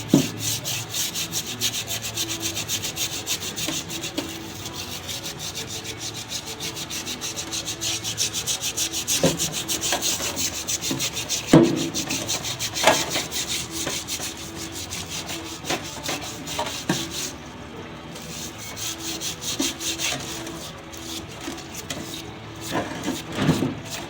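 Scrubbing and wiping gunk off the oil cooler mounting surface on a 1997 Ford 7.3 turbo diesel, a steady close rubbing and scraping with a few sharper knocks, no talking.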